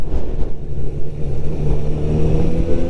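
Honda CB 1000 R 2022 four-cylinder motorcycle fitted with an IX Race exhaust, a loud, deep, throbbing engine rumble close by, fluctuating steadily as it rides.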